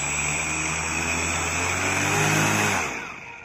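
A homemade fan driven by a brushless motor runs at half throttle with a loud, steady close whine and hum, rising slightly before it spins down at the end.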